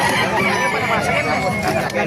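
Busy rooster crowing and clucking close by at a market in Calumpit, Bulacan, steady and loud across the whole moment, with a chattering crowd of voices blending underneath.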